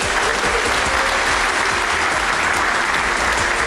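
A talk show audience bursts into sustained, loud applause for Karl-Ulrich Scheible, a thick, even roar of many hands clapping with no pause throughout.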